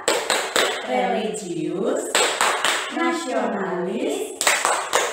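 A class of children claps a rhythmic chant in a classroom, sharp claps falling in patterned groups between their chanted words.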